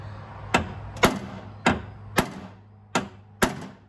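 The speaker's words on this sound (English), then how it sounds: "you're gonna have to, like, hammer this thing on so it's on there tight" Six sharp metallic whacks of a hammer striking a screwdriver driven onto a screw on a Corvette C3 door panel, spaced roughly half a second apart, close and loud with short ringing decays.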